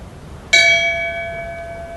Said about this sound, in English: Would you please ring the bell in memory and tribute for all deceased employees, elected officials, and other personnel of the New Lenox Chamber of Commerce?